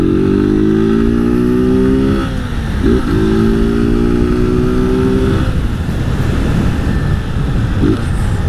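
A motorcycle with failing brakes is ridden at close range, its engine loud as it revs and climbs through gear changes, with rushing wind and road noise underneath.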